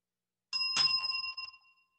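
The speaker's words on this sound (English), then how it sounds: "Well, that was the double bell." Two quick rings of a small bell sound close and clear, the second overlapping the first's fading tone, with nothing else around them.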